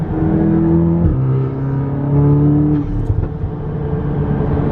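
A tuned Volkswagen Golf R engine making over 400 bhp revs hard and drones loudly under load in third gear, intake sucking audibly, the pitch climbing and dipping as it accelerates, heard up close.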